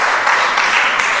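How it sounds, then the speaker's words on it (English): Crowd applause at a political gathering on Tobago autonomy fills the whole moment as a steady, dense wash of clapping with no break or fade. "I want you to simply give yourselves a round of applause"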